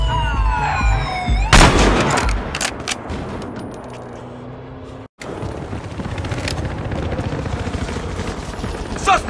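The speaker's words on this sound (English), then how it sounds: "Police car!" Police car siren wailing in the video game Battlefield Hardline, loud and continuous amid chaotic gunfire and explosions, with shouted voices over the din and a brief dropout midway.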